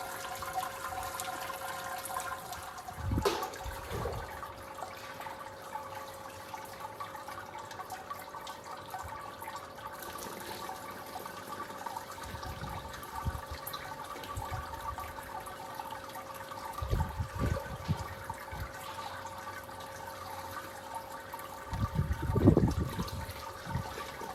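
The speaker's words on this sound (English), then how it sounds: "we're going to sparge with 10 litres of water at about 76 degrees" Hot sparge water, about 76 degrees and ten litres of it, runs into a Brewzilla brewing system during a hazy pale ale brew day, a quiet continuous flow with a few louder splashing surges.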